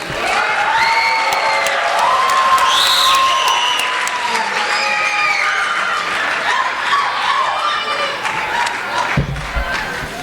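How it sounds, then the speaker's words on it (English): At a high school Hispanic Heritage Month celebration, an audience breaks into loud, sustained applause with whoops and cheers rising over it, easing slightly toward the end. "Can we get another round of applause for Liz, please?"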